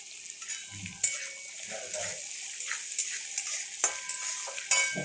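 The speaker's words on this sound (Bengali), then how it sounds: "এটা একটু লাল করে ভেজে নিচ্ছি" Ginger and green chilli frying with beans in a pan: a soft, steady sizzle broken by scraping stirs and a few sharp utensil clinks.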